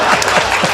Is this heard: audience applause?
yes